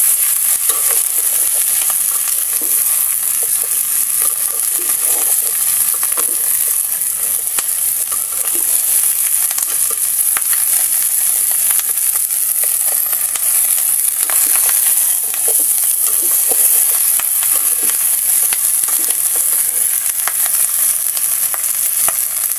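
Chicken feet adobo being stirred in a frying pan, a steady loud sizzle with scraping stir strokes running throughout, no voices.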